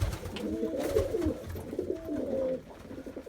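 Pigeons coo softly and repeatedly in a rolling, throaty rhythm, close by in a sheltered spot during snowy, rainy weather, with a little background noise.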